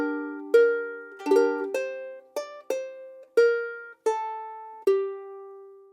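A solo ukulele plays a chord melody across two bars: about nine cleanly plucked and strummed notes, each ringing and decaying before the next, close and clear with no voices.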